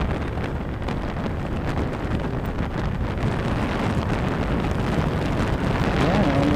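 Strong wind buffets the microphone in a constant low roar while riding a goods delivery vehicle through traffic between Indiranagar and Marathahalli, with faint engine and road noise underneath.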